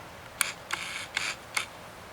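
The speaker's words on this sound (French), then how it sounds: "Je vais prendre une petite photo d'ailleurs." A camera shutter fires several times indoors in an abandoned manor, four crisp clicks spaced unevenly over about two seconds, close and quiet with no talking.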